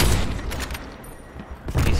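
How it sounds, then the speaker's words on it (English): Gunfire in a search-and-destroy round of a shooter game, a burst of loud shots close by with a dense rattle of rounds at the start and again at the end, no voices over it. "that shot came from behind me"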